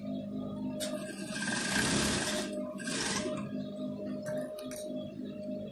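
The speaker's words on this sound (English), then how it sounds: "Then you sew down to this point." A sewing machine stitches fabric while sewing an Etibo shirt with a single stud and cufflink sleeve, giving a low, fairly quiet mechanical hum with a busier run of stitching in the middle and light ticks near the end.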